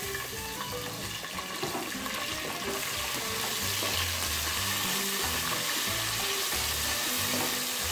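Ginger garlic paste fries with cinnamon and cloves in hot oil, giving a loud, steady sizzle and crackle throughout with light stirring scrapes underneath and no talking.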